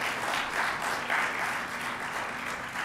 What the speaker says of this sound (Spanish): ¿Cuánto le dan un aplauso al Rey de Gloria por esa bendición tan grande?